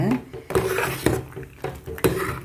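Milk kheer (paal payasam) being stirred in a pot, with a spoon knocking and scraping against the metal at a roughly regular half-second rhythm over a soft bubbling background.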